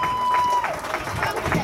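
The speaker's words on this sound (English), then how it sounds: "A nice round of applause for that young man." Crowd at a 2018 youth football game clapping and cheering for a young player walking off the field, a brief outdoor burst mixed with an announcer's voice.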